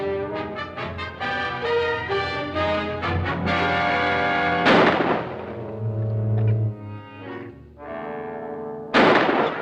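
Gunshot in the 1946 horror film Valley of the Zombies: a sharp, loud bang cuts through a dramatic orchestral score, and a second bang follows near the end.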